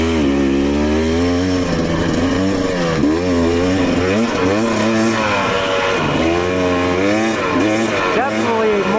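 A Husqvarna TE300 two-stroke dirt bike during a break-in ride, its engine loudly revving up and down in repeated surges, close and continuous with a raspy buzzing tone.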